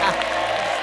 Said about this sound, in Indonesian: Tepuk tangan dulu buat tebakan para panelis.